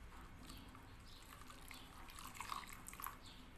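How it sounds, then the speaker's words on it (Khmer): Hot water being poured into a container, a soft, faint trickling splash that continues steadily, with a few small drips near the end. "ហើយយើងចាក់ទឹកក្តៅចូលទៅ"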